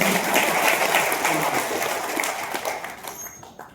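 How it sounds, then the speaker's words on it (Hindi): Audience applause at a gathering, a dense wash of clapping from a crowd that is loud at first and gradually fades out over a few seconds. "एक बार तालियां बजा दो"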